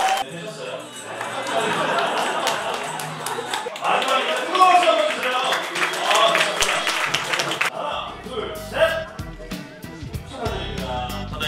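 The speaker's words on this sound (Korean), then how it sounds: "여러분 뜨거운 박수 부탁드리겠고요" Audience clapping at a wine party, a steady dense burst of applause mixed with crowd chatter and a host talking over it, fading into murmuring voices near the end.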